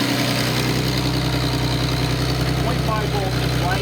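A Nissan 280ZX L28 inline-six idles on an engine test stand, a loud, steady, even rumble with a faint mechanical whine, and a voice speaks briefly near the end.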